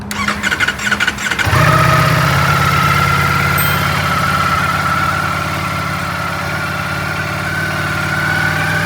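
A new motorcycle with only 8 miles on it cold starts after a short cranking burst, then settles into a loud, steady idle held close by with a faint whine above it.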